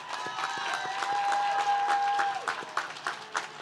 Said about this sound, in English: give another round of applause for our faculty and staff who have worked tirelessly